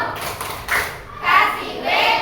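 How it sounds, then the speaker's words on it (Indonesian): A school class in Indonesia performs a rhythmic clapping chant, with several bursts of claps mixed with children's chanting voices, close and fairly loud. "Untuk kelompok 2, tepuk wow."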